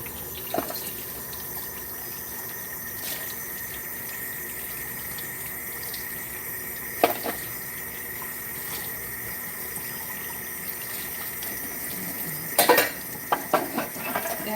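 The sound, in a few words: washing measuring cups under running kitchen tap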